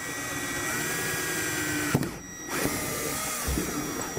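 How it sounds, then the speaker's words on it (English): A power drill whirs steadily as it bores a hole into the wood of a trailer, a continuous close motor whine with a brief stop and restart midway and no speech. "you can go ahead and start drilling away"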